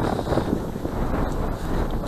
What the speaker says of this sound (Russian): Ветер поднялся, конечно,